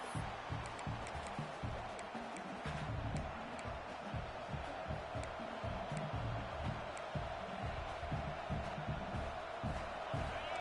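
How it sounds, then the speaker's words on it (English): A large stadium crowd at a Texas A&M vs LSU game roars continuously at a distance, a dense, steady wash of noise with no pause. "listen to this crowd noise. This stadium is vibrating."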